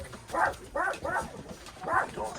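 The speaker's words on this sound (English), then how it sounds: "so you hear those barks?" Dogs bark in a quick run of four or five clear woofs, close and fairly loud, with no talk over them.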